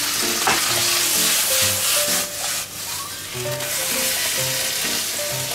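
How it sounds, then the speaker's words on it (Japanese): A thick white sauce sizzles in a pan with reduced mushroom liquid while being stirred, steady frying hiss with scraping strokes and a faint tonal hum underneath. "先にミキサーで、 作っておいたホワイトソースね、 こっちに入れちゃいます。"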